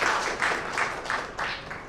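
An audience claps at a Rotary Club installation ceremony, a short round of applause that swells in a few uneven pulses and then thins out.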